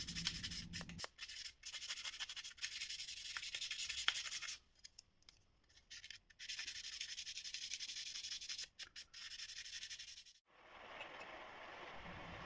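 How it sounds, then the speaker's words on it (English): Close, steady rubbing and scratching of a Tamiya 600 sanding sponge smoothing plastic model car chassis parts in repeated strokes, pausing briefly a few times, with no talking. "using a Tamiya 600 sanding sponge to make the surface of each part as smooth as"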